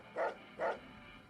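Rex, a dog companion in Fallout: New Vegas, gives two short barks in quick succession, close and clear over a quiet background.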